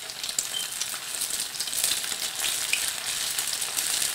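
Potato and mince cutlets sizzle steadily in hot oil, a dense, even crackle that stays close and loud throughout with no voices.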